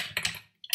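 A few quick keystrokes on a computer keyboard while writing Java code, close and fairly quiet, with a short pause between the taps.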